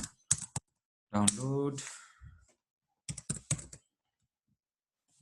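Short bursts of clicking keystrokes on a computer keyboard come in two quick clusters during a software download and install, with a brief spoken word between them in an otherwise quiet room.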